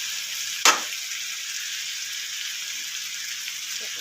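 Ghee hitting a hot pan for aloo besan curry gives one sharp sizzling burst, then settles into a steady, fairly loud hiss of frying fat that carries on alone.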